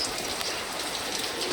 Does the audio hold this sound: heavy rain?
yes